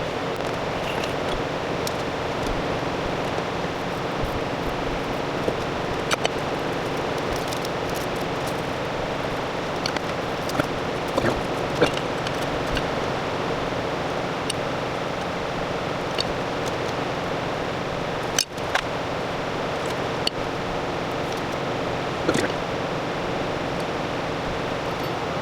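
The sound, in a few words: electric fan running in a hot workshop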